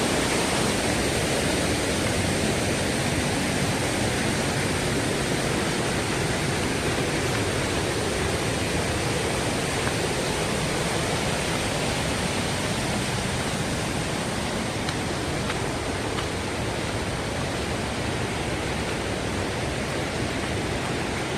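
Marottichal waterfall in Thrissur, Kerala, gives a steady, dense roar of falling water that holds at an even loudness for the whole stretch, with no voices.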